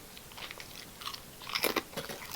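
Someone bites into a freshly opened crunchy Japanese snack, with a few crisp crunches and chewing close to the mic, loudest toward the end, with no talking.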